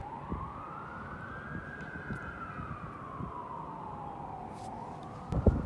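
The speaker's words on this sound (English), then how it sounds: "Oh shit, I can hear a siren." A police siren wails along a street, a single long rising and falling sweep that sounds moderately distant, with a brief louder knock near the end.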